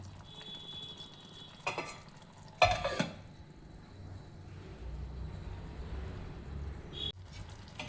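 Vegetable curry of tender kashi val (dudh mogra) beans with tomato being stirred in a pan, heard as faint low cooking hum with a couple of brief utensil scrapes and clatters near the start.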